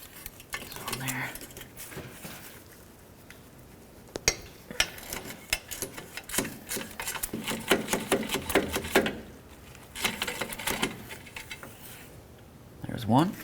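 Intermittent metallic clicks, clinks and ratcheting of a 10mm socket working on catalytic converter bracket bolts of a 2006-2012 Ford Fusion exhaust manifold, close and uneven in bursts with quieter gaps.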